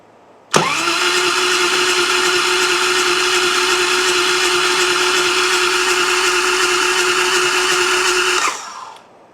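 A 1999 Harley-Davidson Road King being cranked over after revival work, a loud steady starter whine and turning engine running unbroken for about eight seconds before cutting off abruptly.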